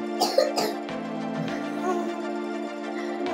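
A man coughs a couple of times near the start, close and fairly clear, followed by a quieter steady background hum with no talking.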